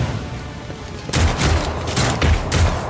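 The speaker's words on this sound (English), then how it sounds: "Loving these guys with the bolt pistols." Bolt pistols fire in the Warhammer 40,000 game Rogue Trader. A quiet lead-in breaks into a loud burst of several rapid, booming shots, and more volleys follow in an uneven rhythm.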